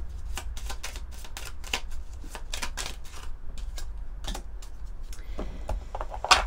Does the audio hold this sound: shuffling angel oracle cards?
yes